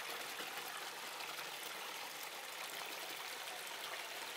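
Water runs steadily through a small gold mining sluice highbanker concentrator, a continuous broadband rushing trickle at low, even level with no talking.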